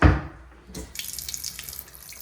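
A faucet gushes into a sink after a sharp opening burst, the water rushing steadily and fairly close for a couple of seconds.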